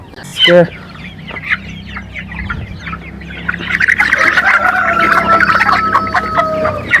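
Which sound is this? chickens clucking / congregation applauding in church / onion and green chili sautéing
chickens clucking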